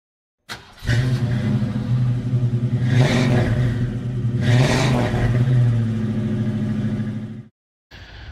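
A 2003 Mitsubishi Magna VRX all-wheel-drive car engine revs up loudly twice from idle, with a steady rumble between the rises before it cuts off abruptly.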